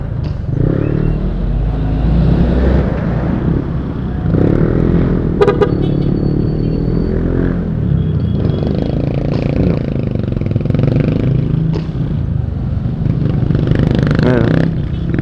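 Road traffic of cars and motorcycles rumbles past at close range, engines revving and droning steadily with occasional rattles, loud and continuous throughout.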